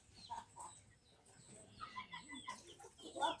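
Chickens cluck in short, scattered bursts around a backyard home, fairly near, with low background noise and no talk.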